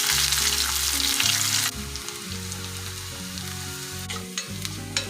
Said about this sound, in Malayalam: കുറച്ച് ചെറിയ ഉള്ളി ചെറുതായിട്ട് അരിഞ്ഞത് കടുകിലേക്കിടാം